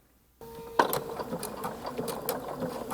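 A sewing machine fitted with a braiding foot stitches embroidery floss down onto fabric, a steady close whirring hum that starts abruptly after a short silence and runs on without talk.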